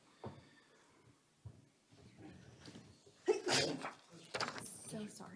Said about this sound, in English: We have one sneeze.